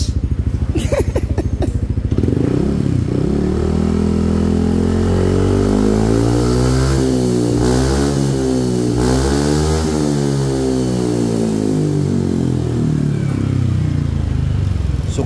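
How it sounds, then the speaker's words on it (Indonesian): A Yamaha NMAX motorcycle fitted with an SKR Racing aftermarket exhaust is started and revved, rising and falling in loud, close, sustained throttle swells after a brief rattling start. "Seneng gak lo denger knalpot kayak gini?"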